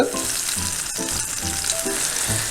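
Steady, loud sizzling of green chillies frying in hot coconut oil, a dense continuous hiss with faint stirring underneath and no voices.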